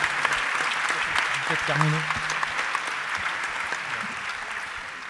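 An audience applauds at a talk, steady crowd clapping that carries through the whole stretch while a voice murmurs briefly beneath it.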